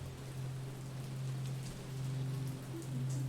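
Rain falls in a video game as a steady, even patter and hiss, with a low sustained hum beneath it, moderately quiet and continuous with no voices.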